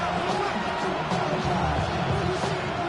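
Crowd noise at a football game: a steady, loud roar of a stadium crowd throughout, with a commentator's voice over it.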